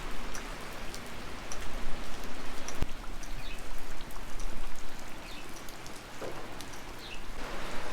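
Rain falls steadily across a farm where cattle stand out in the wet, a dense even patter of drops on surfaces holding for the whole stretch, with one brief sharp knock partway through.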